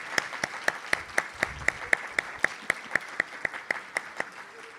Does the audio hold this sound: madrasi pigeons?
no